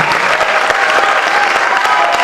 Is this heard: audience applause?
yes